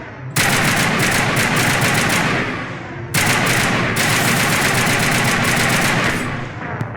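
Automatic weapon fire in Mass Effect 1, two long sustained bursts of rapid, loud shots separated by a brief pause, with no voice over them.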